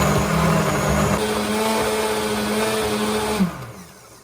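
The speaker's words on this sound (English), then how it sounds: "Right, so blender, whack it on." A blender whirs loudly and steadily as it churns through kale for soup, its motor pitch shifting slightly before winding down near the end.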